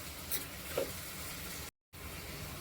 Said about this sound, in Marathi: असं थोडंसं झालं ना, कांदा थोडा अर्धा भाजला ना 2 मिनिटं